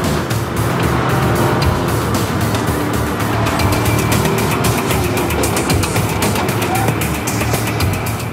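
An Apollo sports car is driven fast around a difficult 21-kilometre race course, its engine a loud sustained roar with rising and falling pitch as it accelerates and shifts.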